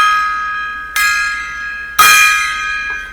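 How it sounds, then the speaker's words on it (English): A gong is struck twice about a second apart, each hit ringing loud and close with a bright shimmering sustain that decays slowly, the second strike stronger than the first. "Random gong solos here."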